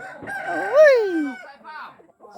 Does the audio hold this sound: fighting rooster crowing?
yes